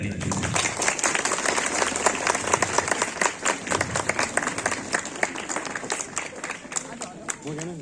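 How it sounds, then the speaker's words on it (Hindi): An outdoor audience at a school Republic Day flag hoisting claps loudly and steadily, dense close applause sustained throughout with voices mixed in. "अब बजाइए ताली"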